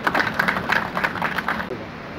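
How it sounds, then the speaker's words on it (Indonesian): A brief round of clapping from a small group at the naming of the Jakarta MRT trains, steady and fairly close, fading out near the end. "Kita beri tepuk tangan untuk teman-teman di MRT ini."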